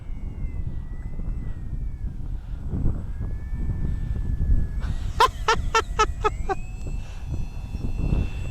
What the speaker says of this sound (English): that plane is literally holding still. I mean, it's like a drone and it's hovering